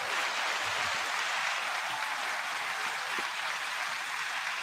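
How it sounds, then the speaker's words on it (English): Steady, dense audience applause on a talk show as the guest, producer Mark Batson, is introduced, sustained and even in loudness throughout with no voices over it. "9-second applause."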